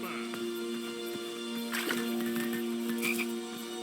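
Frogs croak in the King's Quest I video game, a low buzzing croak with short repeated chirps over a steady tonal game backdrop, fairly quiet throughout.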